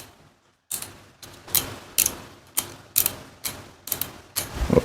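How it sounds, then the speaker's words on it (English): Sharp clicks from the lever of a WMARK NG 1060 cordless hair clipper, about eight crisp snaps in a steady rhythm, close up and alone with no talking. "It's a clicking lever, so you can see 1, 2, 3, 4, 5."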